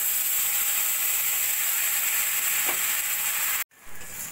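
Mustard and poppy seed paste frying in hot oil for a hilsa fish curry gives a steady, dense sizzle close by with no talk, cutting off abruptly near the end to a quieter hiss.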